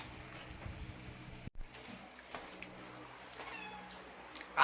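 A pet cat named Cookie gives a few soft, distant meows over steady room noise, with a brief silence partway through and a louder burst at the end.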